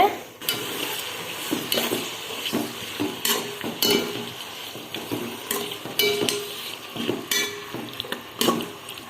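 Onions sautéing in ghee in a pot for ghee rice, with cashews and paste nearby; a soft sizzle broken by repeated clinks and scrapes of a spoon against the metal pot, close up, no voices.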